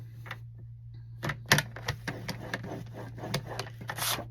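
Cardstock being scored for card making, a series of sharp dry scraping taps and rasps close by, irregular at first and then quicker, over a low steady hum, with no talking.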